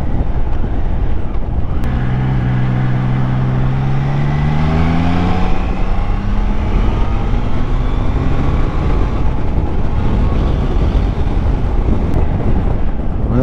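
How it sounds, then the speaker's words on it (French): A Triumph Trident 660 motorcycle pulls from low revs in sixth gear, engine pitch climbing smoothly and steadily over roaring wind buffeting on the rider's microphone, loud and close with no speech. "même si tu t'amuses à aller en 6e, la moto elle broude pas et elle reprend parfaitement"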